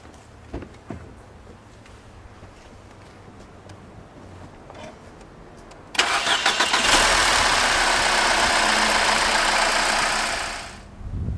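A car is started after an oil change. After a quiet stretch the engine cranks and catches, then idles steadily and fairly loud for several seconds before the sound drops away.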